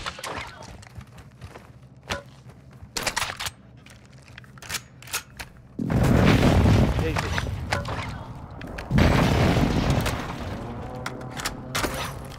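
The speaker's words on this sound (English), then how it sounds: "Friendly airstrike in the AO" A friendly airstrike in a combat video game, heard as heavy, rumbling explosions rolling in over several seconds, mixed with scattered sharp shots and clatter while a player talks throughout.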